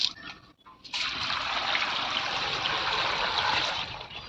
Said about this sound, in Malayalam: ഇതിലേക്ക് ഒരു ശകലം വെള്ളം ഒഴിക്കുക